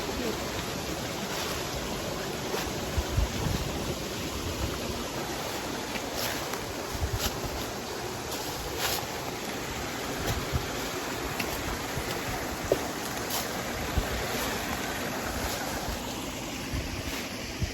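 A forest waterfall pours in a continuous, even rush of water, steady and enveloping, with faint wind on the microphone and occasional small knocks.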